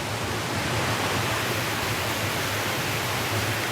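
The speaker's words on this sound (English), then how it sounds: "So that's the stream of water right now" A stream of water in rural Peru flows in a dense, steady rushing hiss, constant and fairly close, with no voices.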